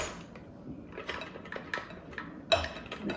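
A spoon stirs buffalo chicken dip with cream cheese in a bowl, giving soft irregular scrapes and light clinks against the bowl, with one sharper clink near the end.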